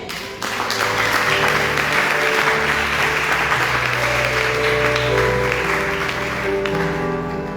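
Sustained applause from a church seminar congregation acclaiming the Lord, loud and steady throughout with a dense crowd roar and no speech over it.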